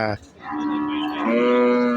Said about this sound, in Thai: ก็วัวลักษณะนี้ก็มีเข้ามาในตลาดนะฮะ